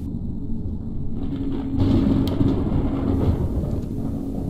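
Low, continuous thunder rumble following lightning in the horror video game Pineview Drive, swelling slightly midway and holding steady without any voices.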